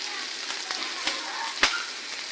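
A mix of tomato and other sauces for chili chicken frying lightly in a pan, a soft steady hiss with a couple of sharper pops and crackles close by.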